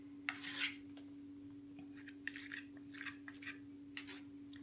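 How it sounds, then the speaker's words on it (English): Palette knife spreading texture paste across an artwork surface, a series of soft, scraping strokes in short irregular bursts, faint and close, over a low steady hum. "I'm just going to spread on some texture paste with this palette knife"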